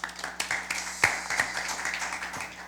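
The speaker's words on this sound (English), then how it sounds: "Give him a round of applause," Sparse, scattered clapping from a small audience at a junior science quiz in Antigua and Barbuda greets a secondary school contestant, a few distinct individual claps and taps rather than a full ovation, fairly quiet.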